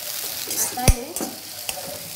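Two chopped onions sauté in a pan for an eggplant masala, a soft continuous sizzle broken by a sharp scrape and knock of a spoon stirring, alone without speech.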